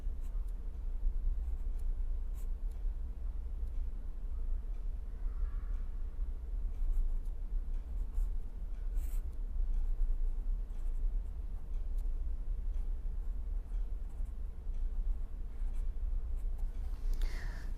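Equations are written by hand during a lecture on rectangular membrane vibrations, a steady soft scratching of strokes with faint ticks, continuous and close.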